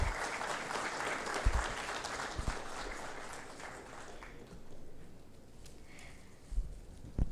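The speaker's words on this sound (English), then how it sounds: "Can we have a round of applause, everyone?" Audience applause at a digital health conference session, moderately distant clapping that stays steady for several seconds and then tapers to scattered claps and a few thumps.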